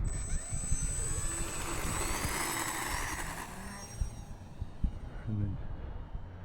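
An FMS F4U-4 Corsair RC model airplane, 800 mm span with a Reflex V3 gyro, takes off with a loud, steady motor whine that climbs in pitch, then eases and thins out over a low rumble.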